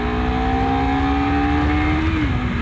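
Honda CBR250RR motorcycle accelerating hard on a test ride, a loud, close, high-pitched engine whine climbing steadily, then a brief dip as it shifts gear, with constant wind roar.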